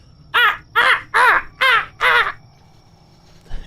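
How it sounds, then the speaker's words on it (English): Five crow caws in a steady, evenly spaced series, fairly close and clear over a quiet background, used as an ambient effect for a foggy swamp setting in a tabletop role-playing game. "In the distance, you hear the birds."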